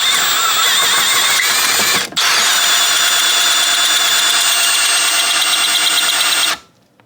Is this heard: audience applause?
no